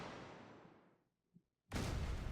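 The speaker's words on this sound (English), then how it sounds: "Explosion!" A video game explosion in Blue Archive: a broad noisy blast fades away over a second, then a sudden second loud burst of roaring noise hits and holds.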